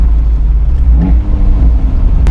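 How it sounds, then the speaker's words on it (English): Abarth 124 Spider engine, roof down, with the throttle bounced for a few quick blips over a steady low rumble, close and loud with a brief rise mid-way. "You can bounce the throttle. Sounds a bit like musical farts."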